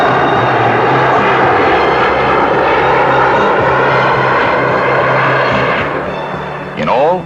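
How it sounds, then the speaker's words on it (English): A large helicopter hovers over a 1970s construction site in Toronto, lifting steel sections onto the CN Tower. Its loud, steady rotor and engine drone fills the air under narration, easing slightly near the end. "The helicopter, hovering like a giant dragonfly, continues the unusual airlift"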